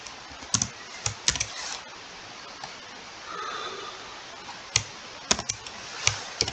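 Fingers type C code on a computer keyboard in short, irregular clusters of crisp key clicks, with a brief soft rustle partway through. The clicks are close and moderately loud.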